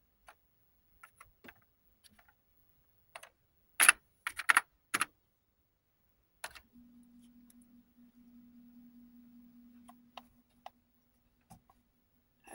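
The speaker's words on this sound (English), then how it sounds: "going to try typing in a name for our new file" Sparse keystrokes on an Atari ST computer keyboard as a file name is typed, scattered clicks in small bursts with a faint steady hum in the middle, close and quiet.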